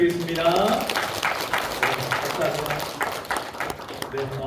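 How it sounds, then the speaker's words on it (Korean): A church congregation at a Sunday morning worship service claps in a burst of applause. The clapping is moderately loud and mixed with a voice that speaks over it and overlaps its start. "우리 하나님 앞에 영광의 박수 올려드리겠습니다"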